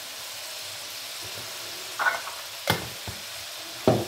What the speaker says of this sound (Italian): prendiamo il vino bianco, sfumiamo e continuiamo la cottura per almeno 5 minuti.